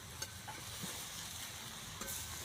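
A spoon stirs through a cooking pot of jaggery and sugar mixture for carrot malpua, producing a steady hiss with a few soft scraping knocks, close and fairly quiet, with no talking.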